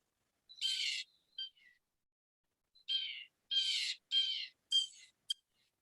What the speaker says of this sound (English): you can hear the sounds of a mockingbird.